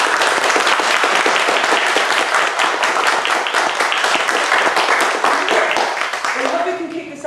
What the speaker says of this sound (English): can you please practice and see how best we can give them a good round of applause?